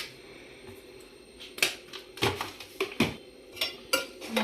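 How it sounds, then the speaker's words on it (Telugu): Pudina rice being mixed with salt in a pan, a series of sharp spoon-on-metal clinks and scrapes in an uneven rhythm, close and fairly crisp, with no talking. "మంచిగా మిక్స్ చేసుకోండి, ఉప్పు అంతా కలిసేలాగా"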